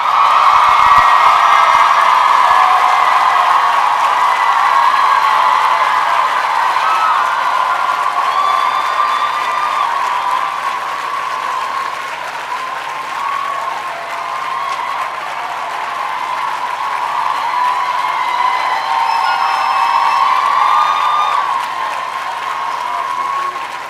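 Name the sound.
standing ovation applause and cheering at a graduation ceremony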